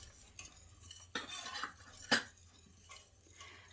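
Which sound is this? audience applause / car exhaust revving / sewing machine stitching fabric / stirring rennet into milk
stirring rennet into milk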